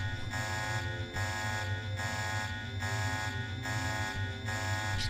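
An alarm in a stealth video game blares as a loud electronic buzzer, pulsing on and off in a steady rhythm of roughly one-second bursts over a low hum, with no voices.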